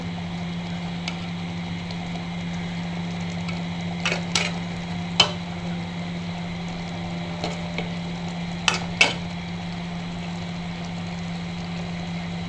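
Spring onion leaf curry with prawns cooks down in a pan with a faint, steady low sizzle under a constant hum, broken by a few sharp ticks and clinks of a utensil; nobody talks.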